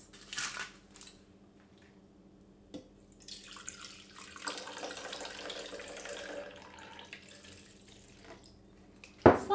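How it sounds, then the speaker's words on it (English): Red wine poured into a measuring jug to mix a homemade film developer, a steady close splashing stream lasting several seconds mid-clip, framed by quieter handling noises and a sharp knock at the very end. "I'm now going to measure out 150ml of red wine and add that to the mix."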